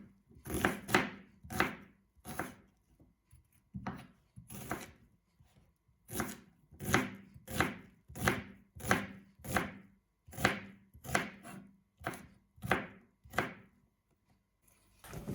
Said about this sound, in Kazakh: жуамызды видеода еткендей сыртын алдымен тазалап, жақсылап жуып, осылай турап шығамыз